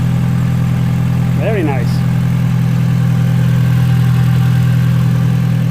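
An Audi TT with the 1.8 BAM engine idles steadily after starting, a loud constant low hum throughout while a voice speaks briefly over it.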